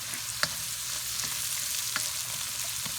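Onions sizzling in a hot pan for jasmine shrimp fried rice, a dense steady hiss with a few sharp pops and spatula scrapes, close and continuous, no voices.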